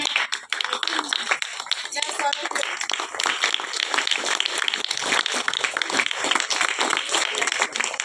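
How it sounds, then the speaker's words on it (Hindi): Audience applause at a school Hindi Diwas celebration: dense, sustained clapping from a crowd, steady and loud throughout with no break. "एक बार जोरदार तालियां हो जाए।"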